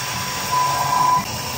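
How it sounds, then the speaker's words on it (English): An APSX-NANO Swiss CNC lathe machines stainless steel 17-4 ejector and locator pins, giving a steady whining machine drone with a thin high tone swelling briefly in the middle, close and continuous without speech. "Hop on to APSX-NANO Swiss CNC lathe. Make the ejector and locator pins."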